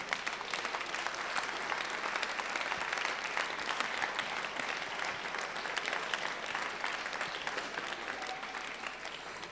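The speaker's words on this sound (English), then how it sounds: "So another big clap for them," A crowd applauds steadily for several seconds, a dense, even patter of many hands clapping without a break.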